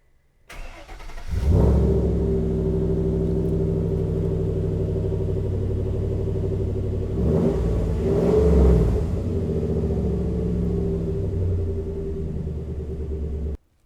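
The engine of an ICON restomod Ford Bronco cranks and catches, then settles into a deep, steady idle close by, swelling with one strong rev midway before dropping back and cutting off.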